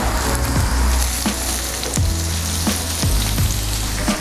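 Garlic, about 30 chopped cloves, sizzles in butter in a cast iron pan with a loud, steady crackling hiss and scattered pops and spatters throughout, close up and alone.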